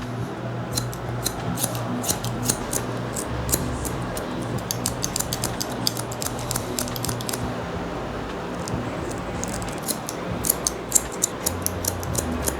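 Barber scissors snip through hair while cutting a modern mullet with a low taper, with rapid crisp close-up clicks coming in bursts throughout over a quiet background.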